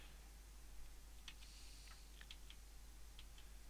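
Sparse keystrokes on a computer keyboard at a PC running a train simulator, a handful of quick, light clicks scattered over a few seconds, faint against a steady low hum.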